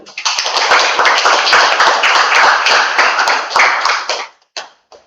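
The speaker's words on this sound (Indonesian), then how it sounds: "tepuk tangan untuk nomor 1" A classroom group claps for the first team after a talk on voltage sources, a close, dense burst of hand claps lasting about four seconds before trailing off into a few scattered final claps.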